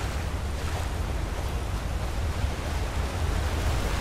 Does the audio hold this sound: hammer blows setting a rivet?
no